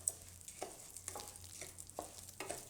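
Kodo millet dry-roasting in a pan over low gas, with faint scraping stirs at a roughly even, unhurried rhythm over a soft background hiss.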